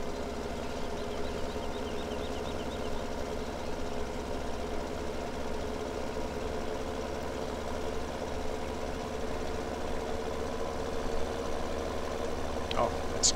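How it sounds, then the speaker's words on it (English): A big tractor in Farming Simulator drones steadily under heavy load while climbing a steep hill, a constant low engine rumble holding level throughout with no break. "even this big tractor would be powering out"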